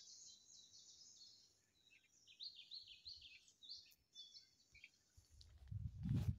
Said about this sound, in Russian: А птицы-то как заливаются,